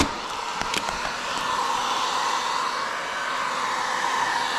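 A heat gun blows across vinyl wrap on a car, giving a steady close whooshing roar of hot air that holds even throughout, with a few faint taps near the start.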